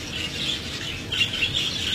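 Chirping from a large breeding colony of parakeets and African lovebirds, a busy overlapping chatter of high tweets and squawks, continuous and moderately close with no talk.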